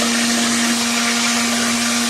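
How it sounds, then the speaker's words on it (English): A blender purees tomato sauce for spaghetti and meatballs until smooth. The motor roars loud and close as a steady whine with no break. "I then will blend my sauce to make it silky smooth."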